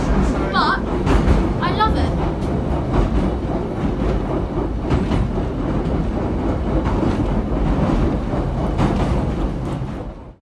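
An Isle of Wight train rolls along with steady, loud rumbling and clickety-clack from the rails throughout, with a brief higher squeal early on and faint voices mixed in.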